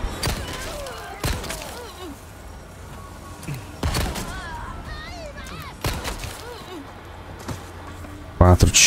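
Gunshots in the Resident Evil 4 Remake video game, four sharp, loud cracks spread several seconds apart over a background of voices and game noise, with a clattering burst at the end.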